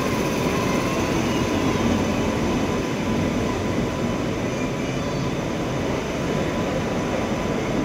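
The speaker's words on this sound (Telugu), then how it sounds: "సఫారీ ఎక్స్ప్రెస్ ఇదైతే ఇండోర్ టు లింగంపల్లి మధ్యలో నడుస్తుంది అనమాట" The Sabari Express, running between Indore and Lingampally, rumbles past as a steady, loud, broadband roar of wheels and carriages with no breaks and no voices.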